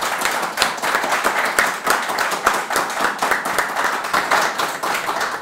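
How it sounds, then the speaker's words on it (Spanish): Members of a cycling fan club in Llanera applaud a local racing cyclist: sustained, dense clapping from a room full of people, close and even, with almost no talk. "su peña ha venido a dar este aplauso al gran corredor de Valdornón"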